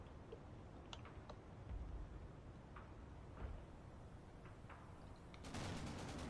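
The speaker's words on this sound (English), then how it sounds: "there's the weapon fire" Weapon fire in a video game, faint distant shots popping irregularly across a wide map, then a louder burst of rapid fire near the end.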